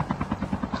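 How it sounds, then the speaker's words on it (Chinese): Helicopter rotor chopping in a Call of Duty Mobile battle royale match, a steady rhythmic thump of about ten blade beats per second, fairly loud and close, with no other sound over it. "好多直升机。"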